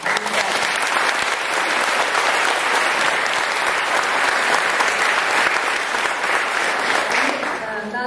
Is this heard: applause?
yes